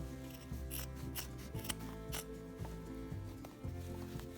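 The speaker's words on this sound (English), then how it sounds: "You have to snip that far down." Scissors snip through upholstery fabric on a deconstructed chair, a quiet run of crisp cuts spaced at a steady rhythm close by over a low hum.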